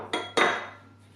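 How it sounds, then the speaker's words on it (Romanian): A utensil clinks twice against a bowl while dried thyme, lemon salt and garlic powder are stirred together, each knock ringing briefly before fading to quiet. "Amestecăm bine."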